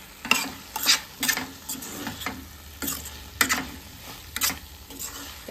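Paneer stirred through soy sauce in a hot sizzling pan, a spoon scraping and clinking against the metal in irregular strokes over a low, continuous sizzle, close and fairly quiet.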